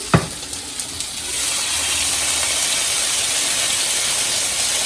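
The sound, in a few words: Italian sausages sizzling while cooking in a pan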